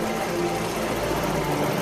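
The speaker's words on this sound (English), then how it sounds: "riding around on his tractor" A tractor engine runs in a steady, continuous mechanical drone with a faint rattle, constant in level throughout and heard alone without speech.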